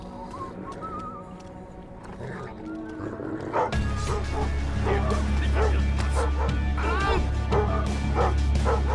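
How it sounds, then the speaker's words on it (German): A dog barks in the stealth video game Thief 4, with a short sharp yip-like bark over a sudden loud rumbling game ambience that swells after a quiet opening. "Das ist dieser blöde Köter."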